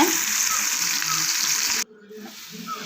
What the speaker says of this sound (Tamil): நல்லா கிளறி விட்டுட்டே இருக்கணுங்க